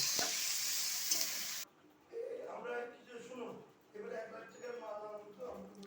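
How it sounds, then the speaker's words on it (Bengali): Spices with turmeric stir-fried in a pan with tomato, a loud sizzling hiss at the start that cuts off abruptly, followed by someone speaking. "এখন আমি পরিমাণ মতো হলুদও দিয়ে দিচ্ছি দিয়ে মশলাটা ভালো করে আমি কষিয়ে নেব"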